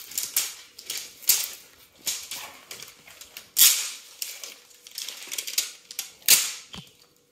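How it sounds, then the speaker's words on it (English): Crinkly plastic wrapping being peeled and torn off a Zuru Smashers Dino Ice Age toy egg, a close, loud series of sharp crackling bursts coming in irregular clusters with brief pauses between. "Let me unwrap this."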